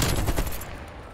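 AK rifle fire in Call of Duty: Black Ops Cold War, a rapid burst of close, loud shots lasting under a second and then fading out.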